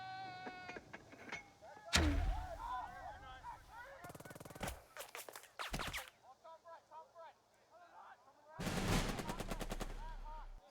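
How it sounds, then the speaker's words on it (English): Mortar rounds are fired onto a machine-gun position in the Burden of Command war game. Several loud, sharp booming blasts arrive in separate bursts, the longest one rumbling on near the end, with quieter chattering sounds between them. "I'm going to huck some mortar rounds on this MG right here."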